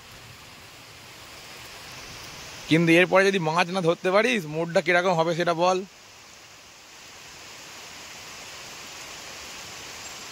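Steady rain hisses down on a village pond during rainy-day rod fishing, a constant soft wash that continues throughout while someone speaks briefly in the middle.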